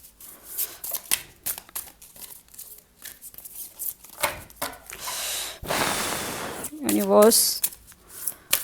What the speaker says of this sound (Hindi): चलिए अब मोनोलॉजी कार्ड से निकालते हैं गाइडेंस।